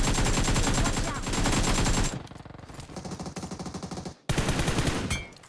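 Rapid automatic gunfire bursts from the video game PUBG Mobile, loud and close, pausing briefly and then resuming in sharp repeated volleys.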